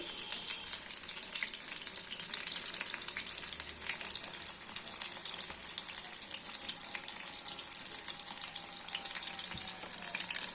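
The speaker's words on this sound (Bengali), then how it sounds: "তেলটা মিডিয়াম হিটে করে দিচ্ছি। একটা একটা করে ছেড়ে দিচ্ছি।" Hot oil sizzles and crackles steadily and close up at medium heat, a continuous hiss of fish frying one piece at a time, with no talking.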